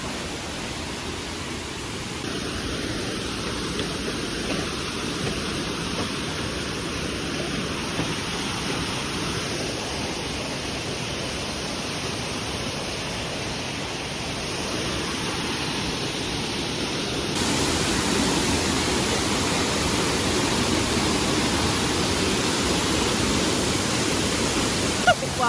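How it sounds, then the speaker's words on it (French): A waterfall about 20 metres high in Guadeloupe roars as a steady broadband rush of falling water, loud and close, swelling slightly toward the end with no clear voices over it. "la chute elle fait 20 mètres apparemment, donc je pense que ça va être super impressionnant"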